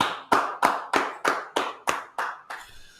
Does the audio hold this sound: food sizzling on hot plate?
no